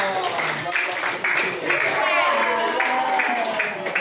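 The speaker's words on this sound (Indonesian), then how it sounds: "tepuk tangan dulu dong" Audience clapping for a student group at a classroom presentation, a dense patter of many hands that runs the whole stretch with talk mixed in.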